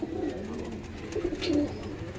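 Pigeons at a Howrah pigeon sale coo softly and steadily, a few rolling low coos close by with no talking.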